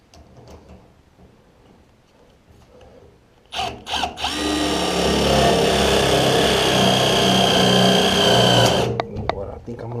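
A power drill drives screws into an aluminum Humvee top during installation, a quiet stretch giving way to a short burst and then a loud, sustained whirring run that cuts off abruptly; faint talk is heard before it starts.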